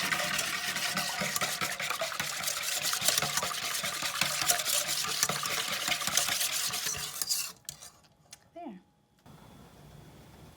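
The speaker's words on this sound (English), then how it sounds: "I'll just finish mixing this up." French toast batter with vanilla is whisked briskly in a bowl, a rapid continuous scraping and clinking that stops abruptly, followed by a short spoken remark.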